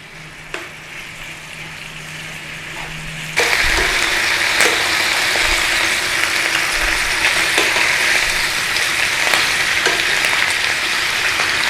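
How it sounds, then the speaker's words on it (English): Bacon and black pudding frying in a pan for a full English breakfast, a steady close sizzle that jumps louder partway through and then holds a dense crackling hiss with small pops. "When that fat starts to come out of that bacon, we're going to use that fat to our advantage to cook the black pudding."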